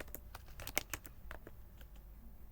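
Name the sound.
typing a terminal command on a computer keyboard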